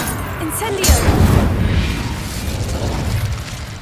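A fiery Incendio spell bursts into a loud, booming explosion in the Hogwarts Legacy video game, rumbling and crackling for a few seconds as it fades.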